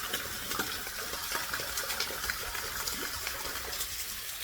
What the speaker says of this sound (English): then there's a waterfall behind me